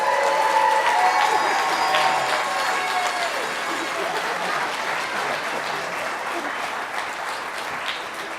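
Wedding guests break into sustained applause right after the couple is pronounced husband and wife, a dense, steady clapping that fades slightly toward the end, with faint voices mixed in.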